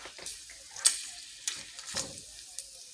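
Bacon frying in a pan gives off sporadic close crackles and sharp pops over a quiet sizzle, with no one talking.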